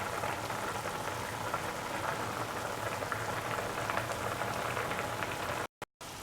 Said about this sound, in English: We just allow the mixture to boil.